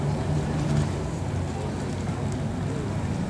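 A 12-ton sea rescue boat, also used as a sea ambulance, motoring around the harbour at a harbour festival, a steady low engine rumble with water and wind noise, heard from nearby throughout.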